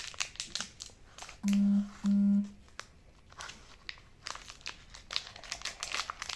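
Crinkly wrapper of a Dido pistachio chocolate bar being torn open, with a run of crackling crinkles and rustles, interrupted by two short electronic beeps, then more close crumpling.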